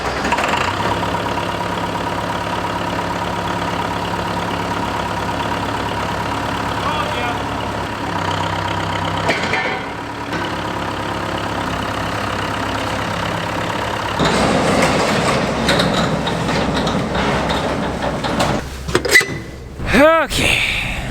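A backhoe engine rumbles at a steady idle on a snowy farm, a continuous mid-to-low drone with a shift partway through and a brief mechanical squeal near the end.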